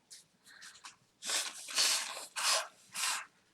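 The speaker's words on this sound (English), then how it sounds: "Blow my nose again." Several harsh, breathy nose blows come in bursts, close and fairly loud, with short soft snuffles before them and gaps between each blast.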